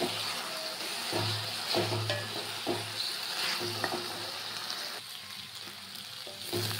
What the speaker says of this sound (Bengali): তাই জন্য একদম মিডিয়ামে দিয়ে মশলাটা কষাতে হবে।